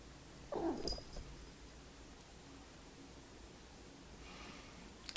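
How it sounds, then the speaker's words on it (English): A cat gives a short, clear meow followed by a low, quiet purr, close and faint over a steady hiss of background noise. "Cats."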